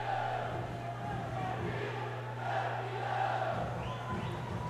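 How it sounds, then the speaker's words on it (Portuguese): Soccer fans at a summer futsal tournament match between Atlético and Palmeiras keep up a steady crowd chant of "tricampeão" in an indoor arena, a continuous roar of voices with a low hum beneath. "Tricampeão eles cantam para a torcida do Palmeiras"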